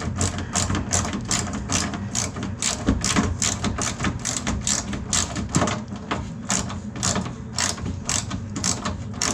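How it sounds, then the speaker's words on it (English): A 10mm ratchet wrench tightening on the electric inverter water pump of a 2007 Toyota Prius gives a rapid, steady train of crisp ratchet clicks, close up and continuous throughout. "Our 10mm wrench goes up like this, and tighten it a little bit."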